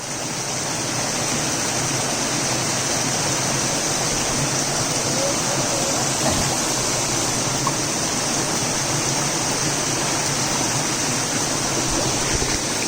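Waterfall on a jungle forest trail, a steady loud broadband rush of falling water that fills the whole clip without pause, close by and with no voices.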